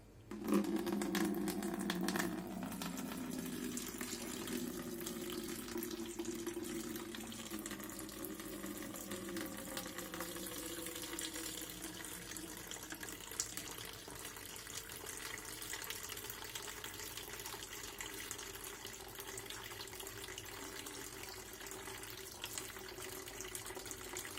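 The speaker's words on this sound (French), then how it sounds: "Et on glisse de l'eau, comme tout à l'heure." Water trickles steadily over a TriggerTech rifle trigger mechanism set upright at an edge. The pour starts with a louder splashing burst, then settles into a continuous, fairly quiet stream for the rest of the stretch.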